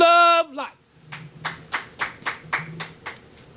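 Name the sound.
roaring applause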